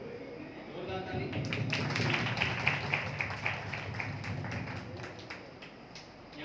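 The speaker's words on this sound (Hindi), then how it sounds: "जोरदार ताली।" Loud applause from an audience at an indoor meeting, many hands clapping in a thick steady patter that swells midway and then eases slightly, with a voice faintly beneath.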